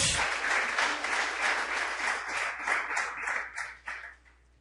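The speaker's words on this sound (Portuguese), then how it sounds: "Você pode aplaudir o Senhor nessa noite" Steady applause from a church congregation during a sermon, many hands clapping together in a dense wash that fades out near the end.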